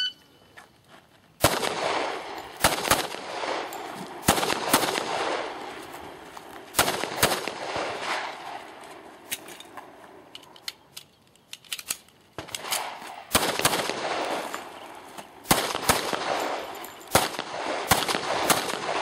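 Handgun shots fired during a shooting course of fire, loud sharp cracks in irregular clusters and single shots across the span, with range echo between them and no talking.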